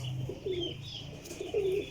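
A golden pigeon coos twice in low, rounded calls, close by and clear, with faint background chirps and no talking.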